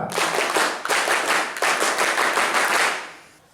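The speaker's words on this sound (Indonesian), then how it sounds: "coba semuanya, tepuk pramuka" Junior high school students perform the Indonesian scout rhythmic clap, a loud burst of group clapping in patterned waves with brief pauses, fading out at the end.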